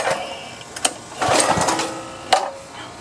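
Gas-powered pressure washer engine being pull-started, with a few quick rattling cranking bursts and recoil tugs separated by short pauses, close by and fairly loud.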